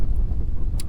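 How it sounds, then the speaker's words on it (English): Strong wind gusts across a lake during a bass fishing trip, buffeting the microphone with a steady low roar and a brief hiss near the end. "it's windy, really windy"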